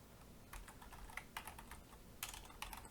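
Keys clatter on a computer keyboard as a URL is entered into a browser address bar, quick uneven bursts of clicks close by over quiet room hiss, with no voices.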